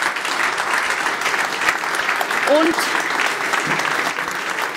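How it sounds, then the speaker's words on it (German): Audience applause at a Swiss federalism podium event in 2023, a dense steady wash of clapping that fills the whole stretch, with a brief spoken word over it. "Sie dürfen gleich weiter klatschen"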